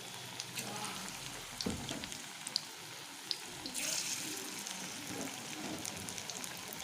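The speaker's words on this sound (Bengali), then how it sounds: "আমি একটা একটা করে এই ফুলকপিগুলোকে নিয়ে এরকম করে তেলের মধ্যে দিয়ে দিচ্ছি।" Cauliflower pakoras, battered florets dropped one at a time into deep hot oil over a medium flame, give a steady crackling sizzle with a few small clicks and bumps, close and alone with no talking.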